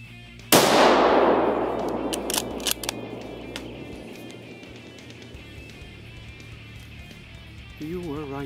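A single loud, close rifle shot from a hunter fired at a deer outdoors, a sharp crack that rings out and fades over several seconds, with faint voices starting near the end.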